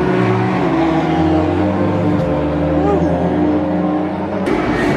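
Race cars at Silverstone circuit roar close by with loud, rising and falling engine notes, one passing with a clear pitch sweep, while people talk throughout.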